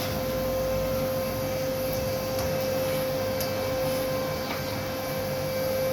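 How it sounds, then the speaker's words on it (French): A household vacuum cleaner runs steadily throughout while someone tidies a bedroom closet, a constant loud motor drone with a high whine and no talking. "Je vais mettre la prise d'aspirateur et puis j'y vais."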